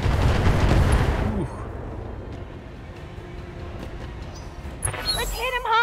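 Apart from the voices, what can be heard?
incoming rocket explosions in the video game BattleTech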